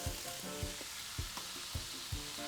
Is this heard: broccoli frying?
yes